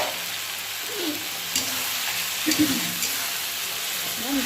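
Masala paste frying in a pan for egg curry, giving a steady close sizzling hiss with a few soft stirring scrapes and no clear talk.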